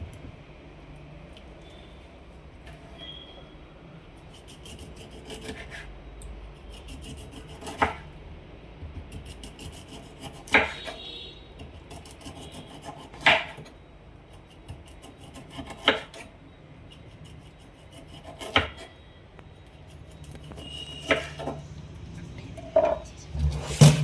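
Silver pomfret being cut with a knife, a soft rubbing, rasping background broken by scattered sharp chopping knocks spaced several seconds apart, close and fairly quiet with no talk.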